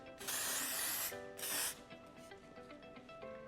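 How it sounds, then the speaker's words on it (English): Two quick hissing bursts of aerosol dry texture spray on hair, sprayed from a distance, the first longer than the second, close and fairly quiet, followed by faint rustling. "I always spray not too close because I don't want it to go powdery"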